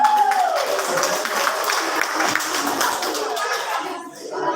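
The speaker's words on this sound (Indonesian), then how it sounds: "Mari kita beri tepuk tangan." Audience applause at a school Indonesian speech contest for Independence Day, a dense steady crowd clap following a brief voice, fading near the end.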